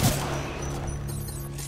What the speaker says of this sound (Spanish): Estoy disparándose contra algo